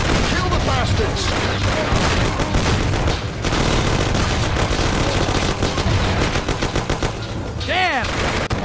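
Rapid gunfire from a shootout in the video game Mafia, loud and dense with machine-gun bursts and single shots layered over shouting voices, continuous throughout.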